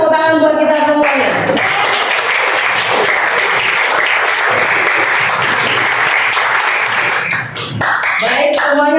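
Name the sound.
classroom applause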